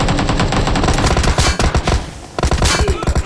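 Rapid bursts of video game gunfire crackle close and loud, several volleys in quick succession with brief pauses between them.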